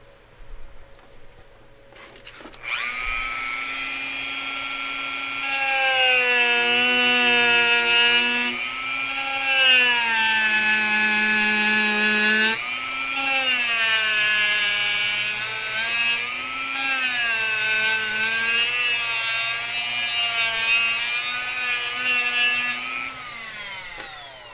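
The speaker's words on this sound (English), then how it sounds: "Let's use the Dremel." A Dremel rotary tool cuts a groove, likely into wood, with a loud, steady high whine whose pitch rises and dips as the bit loads and frees up over about twenty seconds, running alone without talk.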